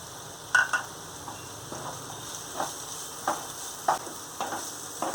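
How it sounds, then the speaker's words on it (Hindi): Chopped onions sauté in chili garlic paste, a soft steady sizzle with intermittent stirring clicks and scrapes spaced about every second. "अनियन को अब हम सौते होने देते हैं"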